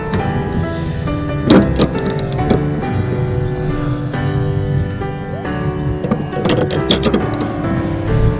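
A big spanner strains against a car bolt until it breaks loose, giving scattered metallic clinks and sharp knocks over a loud, busy background, close up, with no talk.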